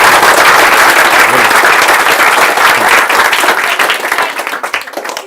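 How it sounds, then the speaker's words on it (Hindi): An audience at a motivational talk claps loudly and densely, a thick roar of applause that fades toward the end. "ये आप एमएलए के लिए तालियां बजा रहे हो, प्राइम मिनिस्टर के लिए बजानी है, थोड़ी तगड़ी होनी चाहिए यार।"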